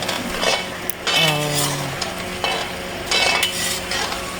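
Mutton for white mutton karahi is stirred in a pot, with scraping utensil strokes, light clinks against the metal and a soft sizzle running underneath.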